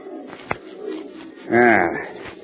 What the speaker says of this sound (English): that was just an old screech owl